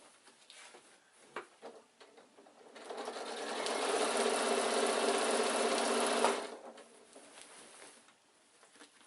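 A sewing machine stitches the corner seam of a bulky insulated picnic bag, running in a steady continuous whir for a few seconds between quieter handling noises of fabric being moved.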